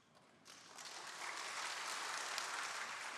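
A church congregation at a Sunday morning service applauding, a steady wash of dense clapping that swells after a quiet start and holds at moderate loudness with no talk over it.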